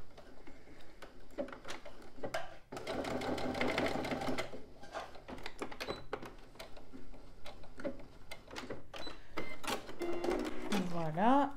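A domestic sewing machine topstitches a fabric pencil case with a zip, running in close, steady whirring bursts of rapid stitching with short pauses between, while someone speaks French softly over the work.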